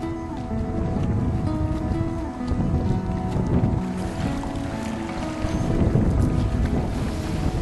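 A Hobie Mirage Outback pedal kayak moves steadily across open water, with continuous water rush and heavy wind buffeting the microphone. The noise is loud and close throughout.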